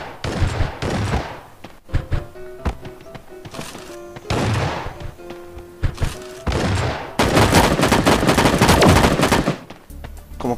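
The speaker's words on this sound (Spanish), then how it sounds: "Como que sentí más disparos," Rapid bursts of gunfire from the Sausage Man battle royale video game, loud volleys of shots in quick clusters with brief gaps, building to a dense, sustained barrage near the end.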